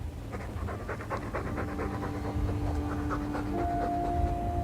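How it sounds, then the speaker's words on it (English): A dog in the video game Dragon Age 2 pants in rapid, steady breaths under a dense game background, with a held tone entering near the end. "All that noisy dog breath, day in, day out."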